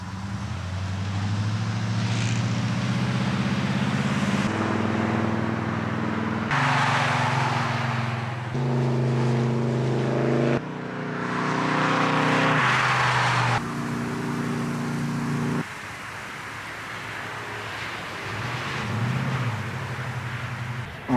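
A carbureted truck engine runs while driving down the road, its steady droning hum shifting in pitch through gear changes and throttle, loud and close throughout.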